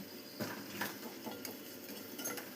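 Asafoetida frying in a pan while being stirred, with soft clinks and scrapes of a utensil against the pan over a faint, steady sizzle; quiet and close, with no voices.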